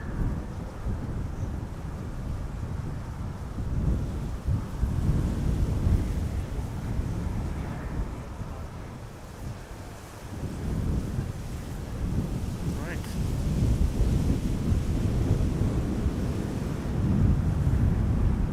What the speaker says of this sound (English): Bit more wind.